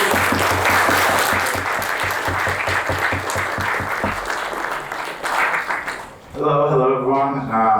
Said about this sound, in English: let's give him a very big applause